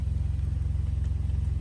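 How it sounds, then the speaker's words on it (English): A 2022 Toyota Camry LE engine idles with the air conditioning running, giving a steady, close low rumble with a regular pulsing throb throughout and no talk. "I turned on my car so I could turn on the AC"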